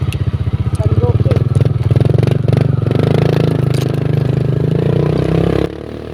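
A motorcycle rides along a road at speed, its engine a loud, steady pulsing drone with clattering transients, near and continuous until it drops off slightly at the end.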